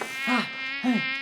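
A bee buzzes in two short, close, wavering bursts with a brief pause between them, loud and alone with no talking.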